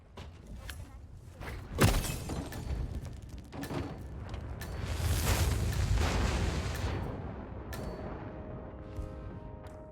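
A triggered explosion in the Hitman video game sounds as a sharp crash and then a long, rumbling blast that swells and slowly fades, with more crashing debris heard over it.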